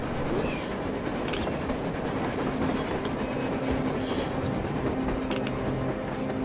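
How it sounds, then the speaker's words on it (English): A train in Metro Exodus rumbles past with a steady, loud roar and rhythmic clatter of wheels on track, filling the scene continuously with no voices. "A train! A damn train on the surface!"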